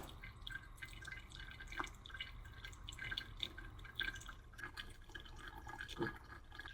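Hot water pours and drips through a pour-over coffee brewer, with quiet, irregular drips and trickles over a soft steady flow, close and faint.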